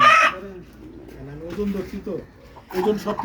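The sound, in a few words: chickens clucking at a market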